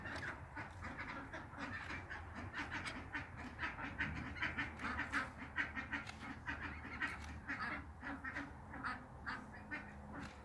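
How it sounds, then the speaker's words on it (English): Ducks quack continuously at close range, several birds overlapping in a busy, steady chorus with no talking. "now the big ducks saw me do it, so they're probably going to come over and steal them"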